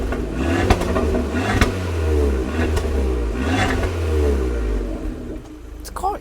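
A small car engine idles and revs up several times nearby, rising and falling in pitch with a steady throaty drone.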